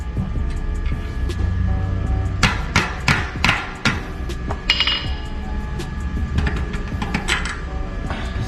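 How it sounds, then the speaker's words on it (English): A rubber mallet taps a rusted part out of a GT Zaskar Pro bicycle frame, a run of sharp, close knocks with metallic clinks, some quick and clustered, others spaced apart. "I'm just going to take my rubber mallet and get that real quick"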